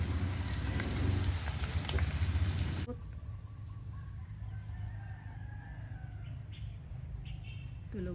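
Rain falling as a dense, steady patter that drops to a softer, lighter hiss partway through, with a rooster crowing faintly in the background.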